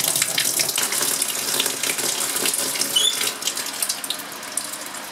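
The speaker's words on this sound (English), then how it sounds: "So this washes out of the flask quite easily with hot water." Hot water running and splashing into a glass laboratory flask as it is rinsed out, a loud close rushing stream with gurgles and a brief glassy squeak.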